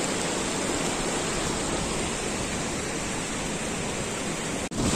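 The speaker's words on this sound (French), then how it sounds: "On arrive carrément au bord des cascades." A waterfall roars steadily and close by, its dense, unbroken rush of falling water filling the whole stretch without pause.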